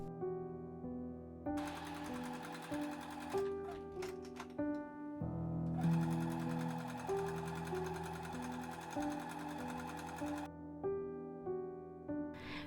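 A sewing machine stitches the edges of fabric ties for a reversible sun hat, running in steady bursts with brief pauses between, its motor hum and needle chatter clear and close with no speech.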